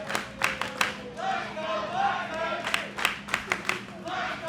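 A wrestling crowd cheers for Barton, with scattered rhythmic clapping and shouts rising and falling under a commentator's voice.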